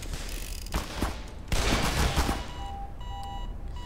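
Gunfire crackles in the video game Black Mesa, with a short burst and then a longer rapid volley, followed by electronic beeps from the game.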